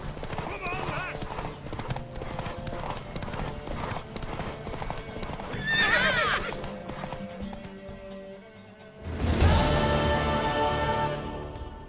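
A horse galloping in The Witcher 3 video game, its hoofbeats clip-clopping under raised voices and shouting, with a whinny and a swelling burst of noise near the end.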